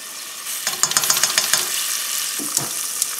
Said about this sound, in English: to this, I'm going to add the nahari masala, a teaspoon of salt, teaspoon of ginger and garlic, and then I'll fry it for a little bit